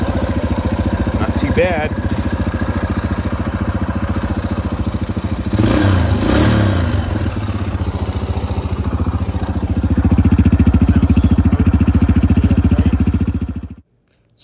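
Yamaha TTR125 dirt bike engine running steadily after a kick start, a close, loud single-cylinder putter that rises slightly before shutting off, with a voice speaking briefly.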